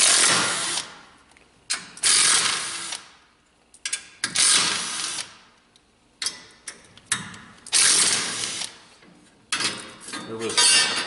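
A ratchet wrench loosens and removes the bolts from the bottom bracket of a 2016 Polaris RZR XP Turbo 1000. It is heard as about half a dozen bursts of loud, close, rapid clicking, separated by short pauses.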